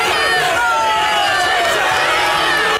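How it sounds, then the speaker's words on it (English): A friendly crowd gathered outside Boris Johnson's North London home on Brexit night makes a steady, dense murmur of chatter and calls, with thin high tones running through the hubbub for the whole stretch. "that was just the friendly crowd waiting outside his home in North London"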